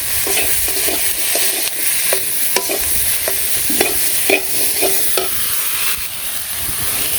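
Stalks and eggplant being stir-fried with turmeric, chili, salt and green chilies in a village kitchen, a continuous close sizzle broken by repeated scraping strokes of a spatula against the pan, loud and with no talk.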